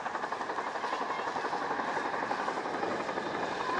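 An RAF Chinook twin-rotor helicopter flies past at an air display, its steady, loud rotor thump pulsing rapidly and continuously with a rumbling engine roar throughout.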